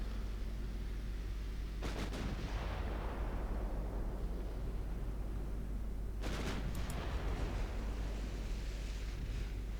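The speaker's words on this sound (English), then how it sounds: "The Arkansas is also firing back." Warship artillery firing in a naval battle in Ultimate Admiral Dreadnoughts, two heavy booming salvos a few seconds apart over a constant roar of wind and sea noise.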